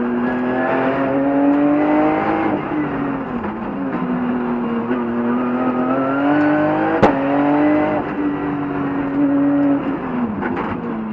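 A Porsche GT2 climbs a hill climb course flat out, its engine note rising through the gears with clear shift dips, loud and close, with a sharp bang near the middle and no talk.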